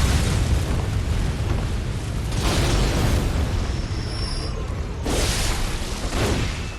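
Gatling Man firing his gun in the video game Bloodborne, a loud sustained roar of rapid blasts with two sharper surges of booming bursts, dense and continuous with no talking.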